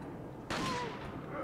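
A single gunshot in the video game Resident Evil 4, one sharp burst with a short decaying tail, fairly quiet in the mix.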